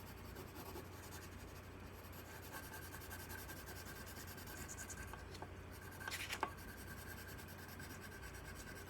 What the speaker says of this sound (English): This is when you can use the full force of the pencil